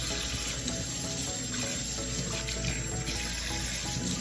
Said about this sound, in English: So I turn the water on again.